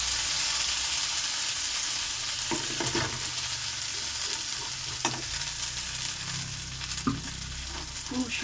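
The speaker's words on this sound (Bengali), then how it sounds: "তো তেলে এগুলো সব ছাড়বো।" Kharkon leaves coated in flour fry in hot oil in a kadai, giving a steady, loud sizzle with scraping stir strokes at intervals throughout, and no talk.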